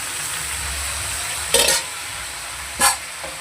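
Spinach goes into a pot of cooking dalia khichuri, a low simmering bubble and hiss broken by two short scraping stirs, close and alone without talk.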